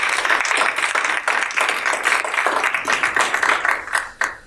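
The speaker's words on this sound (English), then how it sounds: "let's give Ron a round of applause" An audience applauds a speaker at a talk on internet bots, trolls and misinformation, with dense, steady clapping that swells and dips through the whole stretch, loud and close.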